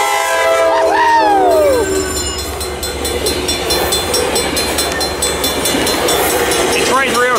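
A train rolls through a crossing near the Santa Fe Depot and blasts its horn loudly at close range. The horn pitch bends downward as it passes, and the rumble and clatter of railcars follow, with a second horn burst at the end.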